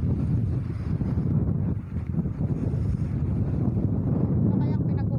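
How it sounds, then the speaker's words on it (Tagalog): Strong wind roars and buffets the microphone continuously, a dense rumbling rush with faint voices beneath. "Ang lakas ng hangin."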